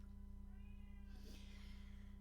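A pet cat gives one faint, drawn-out meow indoors beside a computer, heard over a steady electrical hum.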